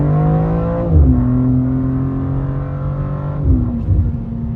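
A 2024 BMW G87 M2 engine accelerates hard in auto mode, a loud droning roar climbing in pitch and then dropping with each upshift, heard from inside the car.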